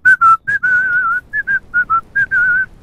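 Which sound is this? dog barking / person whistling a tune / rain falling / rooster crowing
person whistling a tune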